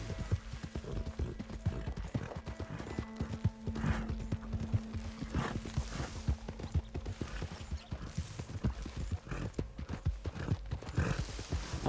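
Horse hooves clop at an even walking pace in Red Dead Redemption 2, a steady rhythm of close, crisp steps over a soft ambient background.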